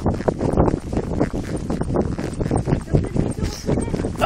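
Hooves of a trotting horse clip-clop in a steady, fast rhythm, recorded close from a camera mounted on the rider, with wind and movement noise over it and no clear speech.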